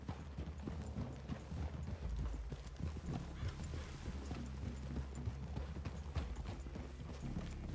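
Horse hooves clip-clopping steadily on the ground in the Red Dead Redemption 2 video game, a rhythmic walking gait heard quietly with faint mechanical clinks and a low snort.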